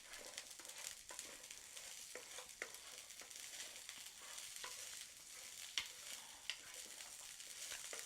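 Flour toasts in a pan while being stirred constantly for caviar do caipira, producing a quiet, continuous dry scraping with regular strokes and light taps against the pan, with no voices.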